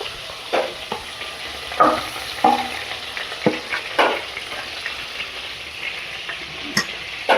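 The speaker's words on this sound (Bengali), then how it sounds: "এরপর আমি আদা রসুন বাটা দিয়ে দেবো।" Ginger garlic paste fries in a pan for butter chicken, giving a steady close sizzle broken by several sharp scrapes and clacks of a spatula stirring, with no voices.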